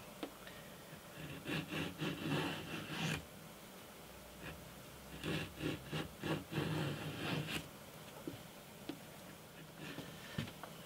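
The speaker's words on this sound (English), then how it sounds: "I think it's the first time I've planed a curve." A hand plane works a curved wooden guitar brace for an acoustic guitar build: faint, repeated raspy shaving strokes in two bursts of several passes each, with quiet pauses between.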